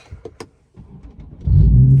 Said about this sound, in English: Time for the M55 startup.